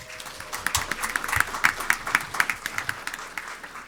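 A brief burst of audience applause at a middle school leaders' recognition during a board of education meeting, a crowd clapping steadily for about four seconds at moderate volume with no talking.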